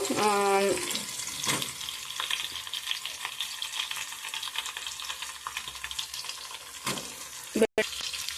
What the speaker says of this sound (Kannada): ಹಾಗೇನೆ ಈರುಳ್ಳಿ ಫ್ರೈ ಆಗ್ತಿದೆ